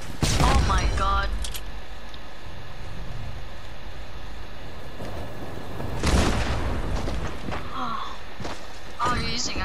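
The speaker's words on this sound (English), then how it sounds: "Oh, you're using a cannon" Cannon shots in Fortnite: two loud booming blasts several seconds apart, each followed by rumbling decay, with players talking in between.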